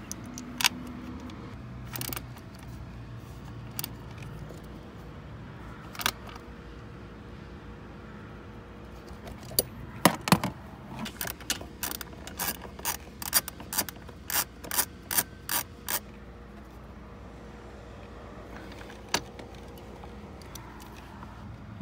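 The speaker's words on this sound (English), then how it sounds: "These little 10 millimeter coil bolts will go back in." Small 10 mm ignition coil bolts are reinstalled on a Jeep JK, heard as faint, close metallic clicks and ratchet-like ticks, scattered at first and then coming in quick runs, over a quiet background.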